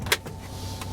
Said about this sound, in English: Driver window works.